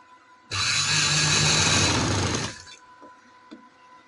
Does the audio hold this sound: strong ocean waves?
no